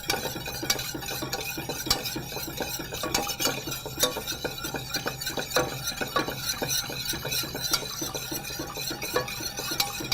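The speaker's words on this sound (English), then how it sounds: "like to mix my lemon juice and eggs together before I add my sugar" Lemon juice and eggs mixed together in a bowl with a utensil, a continuous close clinking stir with light scraping taps, no talking.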